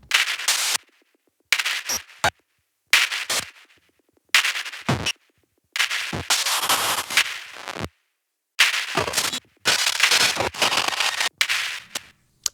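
Glitchy bursts triggered from a Paratek P3PB modular synth module: a series of abrupt, noisy broadband stutters separated by silent gaps, some short and clicky, others sustained for a second or more, fairly loud and dry.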